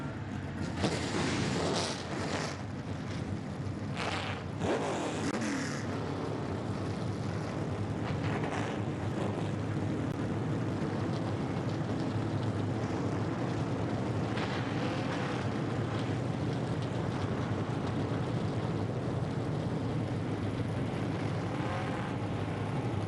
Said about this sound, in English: And with that, the engines are fired.